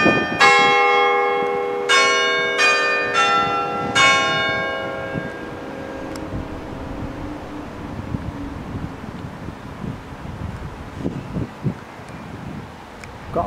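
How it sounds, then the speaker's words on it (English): St Michael's church clock bell in Mytholmroyd, which has a Westminster chime, sounds outdoors in about five clear, ringing strokes in quick succession, then fades into a long decay under gusty wind noise. "So it's got the full Westminster chime on the hour and the strike and the quarters"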